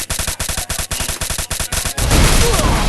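Rapid gunfire from the mobile shooter game Free Fire: a steady string of sharp evenly spaced shots, then a denser burst of overlapping fire, loud and close with no talk.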